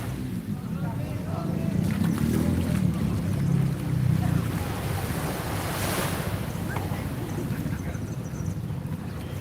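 Sea surf at Grand Baie, Mauritius, at sunset, a steady wash of waves with heavy wind buffeting the microphone, louder early on and easing, with people talking nearby.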